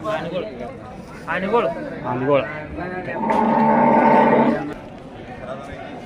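At a busy cattle market in Kalghatgi, a cow with her calf lets out a long, drawn-out moo midway, close by, while people talk over and around it.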